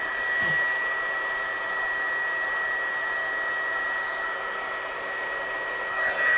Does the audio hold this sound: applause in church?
no